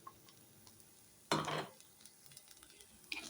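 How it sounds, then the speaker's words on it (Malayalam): Green bean thoran being stirred with ground coconut paste in a pan: one loud scraping, sizzling stir burst mid-clip, then soft clinks and a second brief stir near the end over quiet kitchen background. "അരപ്പ് ചേർത്ത് കൊടുത്ത് നല്ലതുപോലെ നമുക്ക് ഇളക്കി കൊടുക്കണം"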